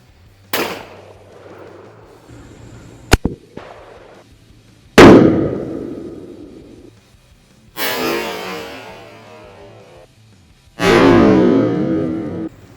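A Smith & Wesson 500 Magnum revolver fires heavy 400-grain bullets at an outdoor range, loud sharp blasts, with a few additional shots and booming reports spaced several seconds apart, with echoing decays and no talking.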